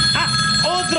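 A telephone rings in a radio studio during a live broadcast, its bright tone repeating briefly over a steady background hum with faint voices underneath.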